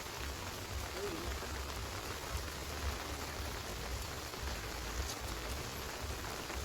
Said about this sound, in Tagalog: Maulan pa, lakas ng ulan.